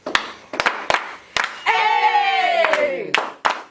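Kids at a Boys & Girls Club cypher clap along together, sharp, unison hand claps in a loose steady beat, broken in the middle by a long drawn-out vocal note before the claps return.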